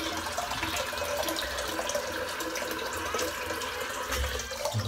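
Water running steadily from a tap into a bathroom sink during a head shave, a continuous hissing splash at moderate level with no talk.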